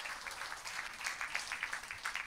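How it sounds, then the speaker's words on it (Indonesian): Quiet, distant applause from teachers and supervisors at a seminar on Christian religious education in Indonesia, a thin patter of clapping that stays faint throughout the short stretch. "Tepuk tangan dong buat Pak Andi."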